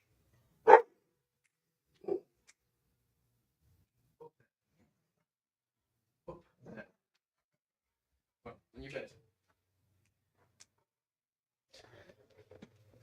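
A house dog on guard mode barks at someone outside, giving a few sharp, separate barks spaced several seconds apart, moderately close, with quiet bits of talk between them.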